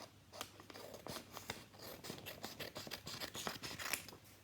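Scissors cutting through folded paper while making a 3D paper snowflake, a close series of crisp snips and rustles in an uneven rhythm, with no voice.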